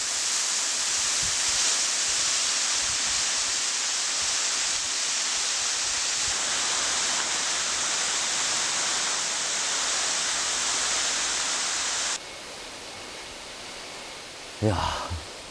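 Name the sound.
cool flowing stream water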